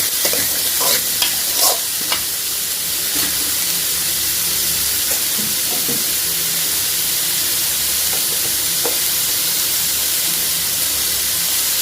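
Pumpkin masala fry being stirred in a pan, a steady sizzling hiss with intermittent scraping stir strokes throughout, close and fairly loud with no talking.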